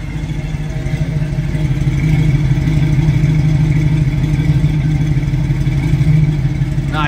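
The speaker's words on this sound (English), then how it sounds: "Nice sounding exhaust." Steady low rumble of a 1969 Chevrolet Camaro's 350 V8 with EFI idling through its exhaust, loud and close, with a slight rise partway through and no voices.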